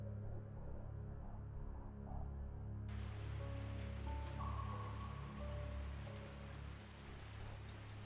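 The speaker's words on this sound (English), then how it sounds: "It was a rainy evening after school, just like this one." Rain falling in the horror video game Corpse Party, a steady soft hiss of raindrops over a low hum, which brightens and thickens partway through, with faint tonal game sounds, no talk.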